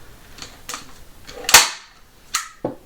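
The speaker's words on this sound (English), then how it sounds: "then we're gonna take our staple gun because we want it to hold" A staple gun fires into ribbon on a handmade Christmas card holder: one loud, sharp snap stands out up close, with a few softer clicks and handling taps around it.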